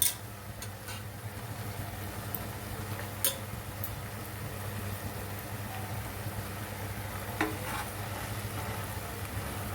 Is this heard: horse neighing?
no